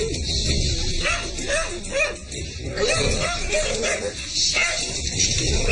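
Several dogs, including a Rottweiler, bark and yip excitedly in bursts inside a house, with whimpers mixed in, while people talk nearby.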